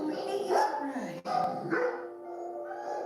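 An aggressive dog in a kennel barks and snarls repeatedly, close and loud, with a strained growling edge and a brief pause between bursts.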